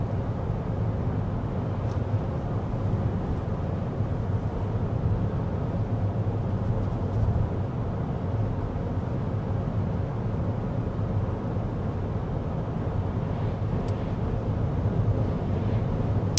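Steady low rumble of road and engine noise inside a 2026 GMC Acadia Denali cabin at 55 mph, fan on low, constant and unbroken, with no talking.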